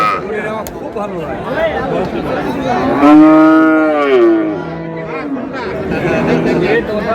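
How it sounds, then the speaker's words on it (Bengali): A Sahiwal cow moos loudly and close, a long drawn-out low call, with people chattering in the background before and after at a cattle market in Dinajpur. "শাহিওয়াল গাভী বাছুর আমরা দেখছিলাম।"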